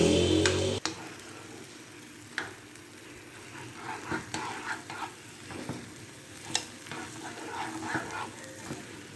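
Jamaican-style corned beef frying in a pan gives a steady close sizzle, broken by scattered clinks and scrapes of stirring, with no talking.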